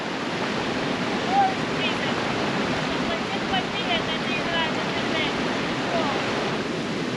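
A cold mountain river in Kyrgyzstan rushes in a steady, broadband roar, with some wind noise mixed in and faint higher chirps above it.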